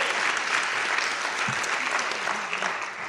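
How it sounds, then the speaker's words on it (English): A room full of people clapping, loud and even, holding steady before tapering slightly at the end. "Let's clap for her."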